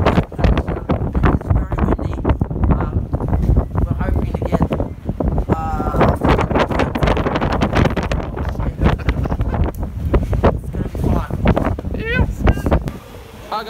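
Strong wind buffeting the microphone at a snowy ski tube station, a loud continuous rumbling roar with gusts throughout while a person talks over it.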